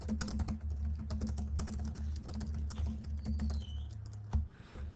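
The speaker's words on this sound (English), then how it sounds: "let me write that down on here, or type that on here real quick" Rapid typing on a computer keyboard, a steady run of close, crisp key clicks over a low background hum, stopping just before the end.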